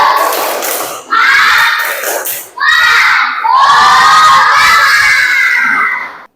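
A group of children loudly shouts a spirit chant in four energetic bursts, their high voices ringing together in a rhythmic call with short pauses between phrases.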